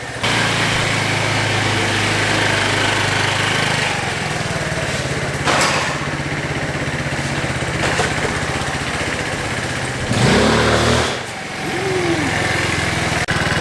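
A GY6 150cc scooter engine idles steadily while warming up, a close, continuous buzzing drone with small rises in revs around the middle and near the end.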